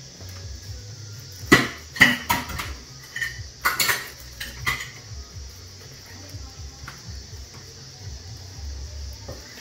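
Knife chopping Australian salmon on a board, a handful of close, sharp taps and clicks clustered near the start, then quieter kitchen background.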